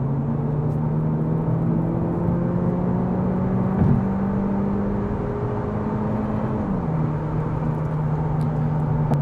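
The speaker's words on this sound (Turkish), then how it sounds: "80-120 ara hızlanma." A 2025 Cupra Leon VZ-Line 1.5 eTSI mild hybrid accelerating from 80 to 120 km/h, heard from the cabin as a steady droning engine hum that rises slowly in pitch, then drops briefly as it shifts, over road rumble.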